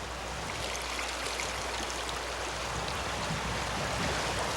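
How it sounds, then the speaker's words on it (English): Gold panning in Juneau, Alaska: sand and silt shaken in a water-filled pan by a stream, heard as a soft, continuous watery swish and trickle at low level, with no talking. "as you shake it up, the gold supposedly will fall to the bottom of the pan, and then you pour off the top layer"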